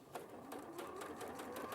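A sewing machine runs steadily as it stitches fabric strips together, a quiet, fast, even mechanical clatter with regular needle strokes, close by with no talk over it.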